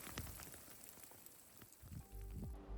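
Rain mixed with hail from a thunderstorm at the Kalymnos climbing crags: a steady, faint wash of patter with scattered sharper impacts and a heavier surge near the end.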